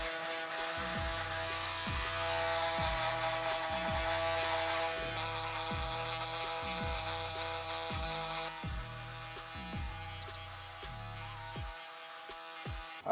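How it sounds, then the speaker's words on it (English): An electric shaver buzzes steadily close by during a men's fade haircut, a continuous humming drone with a faint regular pulsing as it passes over the head, with no talking over it. "I finish it off with, by using my electric shaver, just to get that much closer of a shave."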